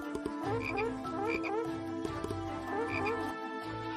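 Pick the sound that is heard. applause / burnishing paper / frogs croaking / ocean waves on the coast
frogs croaking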